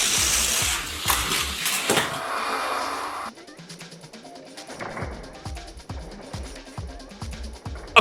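Hot Wheels die-cast cars, a '32 Ford against a Rev Rod, race down a Boost Loop drag track, making rapid plastic clatter and rattling clicks that shift partway through, with a sharp knock at the end.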